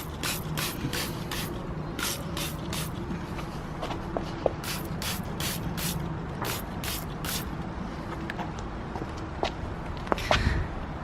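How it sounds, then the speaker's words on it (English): Wonder Wheels cleaner sprays onto car wheels in a series of short bursts, one after another over the first half, with quieter hissing puffs and light scuffing and handling noises after. "with this Wonder Wheeler, what you do, or Wonder Wheels, what you do is just spray it on and wait for it to turn purple"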